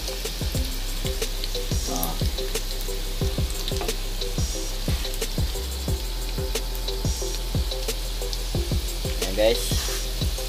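Garlic and onion fry in oil with a steady, close sizzle under a regular thumping beat, and a person speaks briefly.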